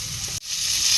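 Chopped pumpkin drops into garlic frying in oil, and a loud, close, steady sizzle briefly dips at the moment of impact, then swells back stronger; no voices.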